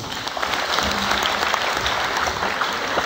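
A round of applause from the audience at a real estate practitioners' oath-taking ceremony in Cebu: steady, moderately loud clapping sustained for about three seconds.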